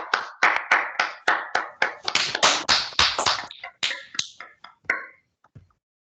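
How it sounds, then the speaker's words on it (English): An audience in a classroom claps in a lively burst of applause that gradually thins out, individual claps audible and fading to a few scattered ones at the end. "Can we just give this gentleman and the lady a round of applause just to encourage them?"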